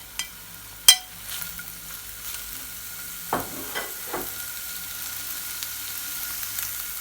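Tomatoes and yellow pepper with chilli and garlic cook in a nearly century-old cast iron skillet, giving a faint steady sizzle with a few soft stirring scrapes and taps.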